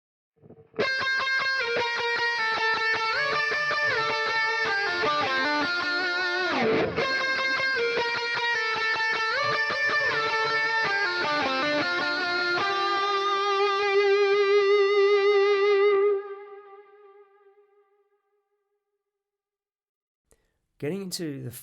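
An electric guitar run through effects plays a strong, hooky songwriting riff with distorted, sustained notes, ending on a long ringing tone that fades into silence before a short burst returns at the very end.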